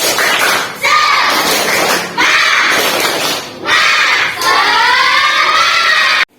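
A school class of children performs a rhythmic spirit clap in the classroom, loud bursts of clapping and shouted chanting in repeated phrases, with children's voices rising and falling throughout.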